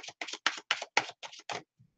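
Tarot cards being shuffled make a series of about seven quick papery riffles in an even rhythm, close and fairly crisp, followed by a faint soft tap.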